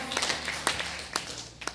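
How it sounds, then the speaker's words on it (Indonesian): A church congregation clapping hands, a few sparse, irregular claps fairly close over a low room hum. "Katakan amin, tepuk tangan."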